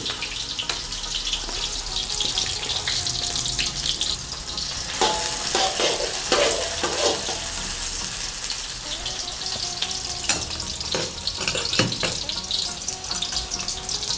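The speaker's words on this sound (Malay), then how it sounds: "bila minyak dah panas kita masukkan bawang bawang merah" Shallots sizzling and frying in hot oil in a pan, stirred now and then with scraping clatters, a steady close crackle with no voices.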